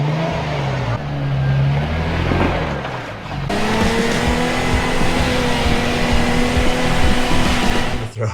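A Toyota Tacoma pickup with a badly worn clutch backs up slowly, its engine giving a close, steady drone with a shift in pitch as it starts rolling.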